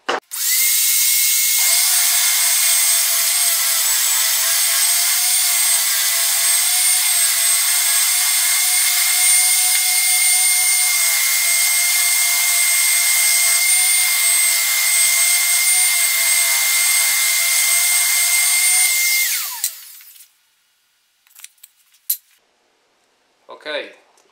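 A power tool whines steadily and loudly for about twenty seconds while cutting holes in scrap plywood, then stops abruptly, followed by a few faint clatters.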